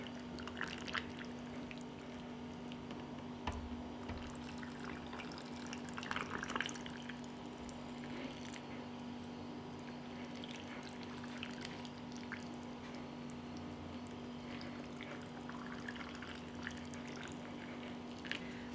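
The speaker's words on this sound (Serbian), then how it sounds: "Zatim ću sada tegle napuniti sa proključalom vodom." Boiling water pours into glass jars prepped with vinegar for canning, a faint, continuous trickle and splash with small drips, close by with a steady hum behind.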